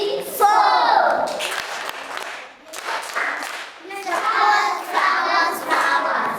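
Children in a classroom clap for a classmate, a bright scattered burst of small-hand applause with excited kid voices mixed in, rising and falling over several seconds.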